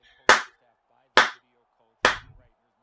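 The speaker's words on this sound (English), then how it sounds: "Clap. And clap." Three sharp, loud hand claps spaced evenly about a second apart, with a fourth starting at the end, and silence between them.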